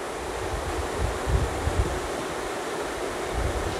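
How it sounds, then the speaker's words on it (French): Strong wind gusting outdoors by a river while fly fishing, a steady broadband roar with heavy rumbling buffeting, alone without talk. "donc le vent qui se lève"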